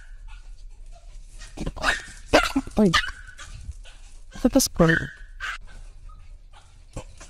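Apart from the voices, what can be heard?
small dog chasing a big dog, played video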